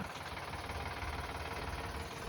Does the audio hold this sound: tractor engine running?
yes